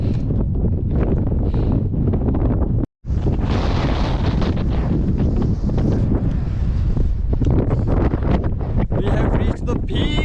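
Strong wind roaring across a mountain peak on the Tour du Mont Blanc, loud and buffeting against the microphone almost continuously, with one brief drop before the gusts surge back.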